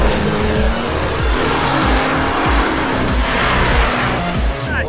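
Toyota Prado straining off-road up a slope: a loud, close engine roar holds steady under heavy throttle, with rhythmic low thumps and rumble from the tyres and chassis over rough ground, and no talk.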